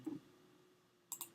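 A computer mouse clicks to start playback, with a soft tap near the start and then a quick pair of crisp clicks close by after a quiet gap.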